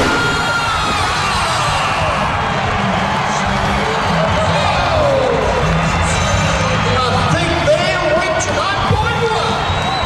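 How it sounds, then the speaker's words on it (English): A large crowd at an Australian monster truck show roars and cheers loudly and continuously, with shouts and whoops rising over the dense, steady din. "the crowd goes bananas"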